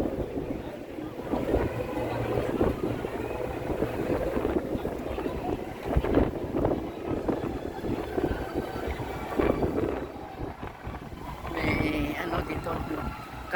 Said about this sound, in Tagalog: Malakas ang hangin ngayon dito sa labas.